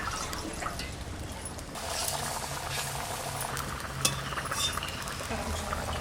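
Climbing perch (koi) fish fry in turmeric oil, giving a steady, close bubbling sizzle with scattered crackles and pops that runs for several seconds without a break.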